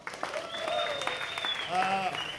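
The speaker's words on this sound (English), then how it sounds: "Big round of applause for yourselves." Comedy show audience applauding, a short burst of clapping from the crowd with voices and whoops mixed in over it.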